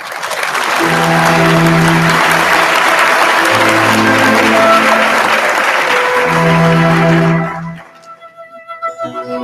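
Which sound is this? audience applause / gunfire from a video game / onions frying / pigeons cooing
audience applause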